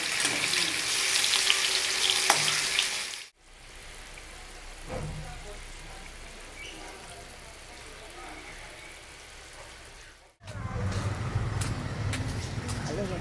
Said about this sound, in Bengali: এদিকে বড়াটা ভাজছি এই কুচো চিংড়ির বড়া